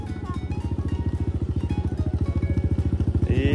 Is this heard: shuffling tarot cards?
no